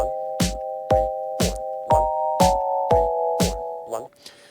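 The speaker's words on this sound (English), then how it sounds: "so you can hear the metronome counting will represent how long a step's been held" OP-Z synthesizer metronome counting quarter notes, with eight evenly spaced sharp clicks under a held, steady synth tone that stops just before the end.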